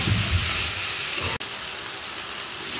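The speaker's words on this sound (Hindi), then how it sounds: "टमाटर प्याज भून रहा है, तब हम तक हम मसाला डाल देंगे" Masala paste frying with tomato and onion in a hot pan, a loud, steady sizzling hiss close up, broken once by a brief sharp click before the frying continues.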